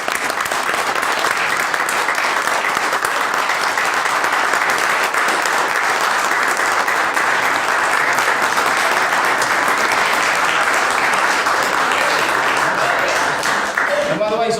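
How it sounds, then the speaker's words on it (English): A room full of people at a township committee meeting applauds, a sustained, dense burst of clapping that stays steady and loud for about fourteen seconds. "it certainly deserves a round of applause."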